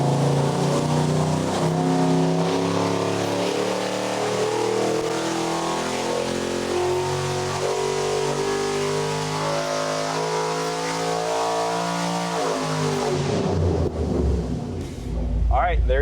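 A high-performance 5.3 LS crate engine roars loudly on a dyno, its pitch climbing steadily through a long sustained pull before cutting off abruptly near the end, followed by a brief lower rumble as it winds down.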